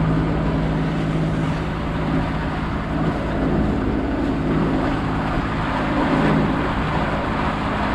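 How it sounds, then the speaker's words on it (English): A sailboat surfs big ocean waves at speed in 23 knots of wind, a constant loud rushing roar of water and wind with low rumble and no voices. "we're starting to surf some of these bigger waves"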